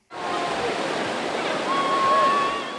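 Boulder Creek rushes loudly and steadily as people float down it on inner tubes during the annual Tube to Work Day, a dense continuous roar of moving water heard close up.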